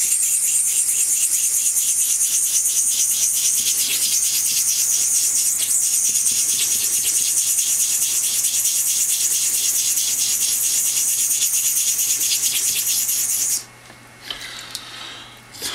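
A straight razor blade is stroked back and forth across a soaped honing stone in a steady, rhythmic rasping scrape that continues closely and evenly, then stops abruptly.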